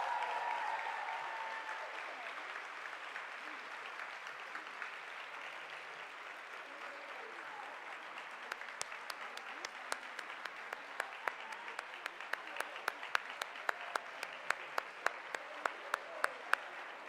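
Conference audience applause rolls on at moderate distance, a soft wash of many hands. Partway through, sharper individual claps ring out in a regular rhythm above the crowd, one person clapping close and loud.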